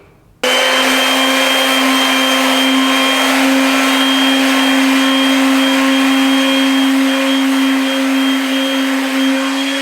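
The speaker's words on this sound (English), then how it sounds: "I'm going to go ahead and feather in this corner a little bit so you guys can see it in operation" A steady, loud electric whine with a constant hum from a Skil palm sander with filtration runs continuously and close by after a quick start, working without pause.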